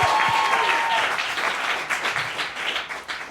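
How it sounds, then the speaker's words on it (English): A comedy club audience at The Groundlings applauds, a dense, loud wash of clapping that holds steady and thins slightly toward the end, with a brief voice near the start. "Appreciate one more round of applause for you guys coming out tonight."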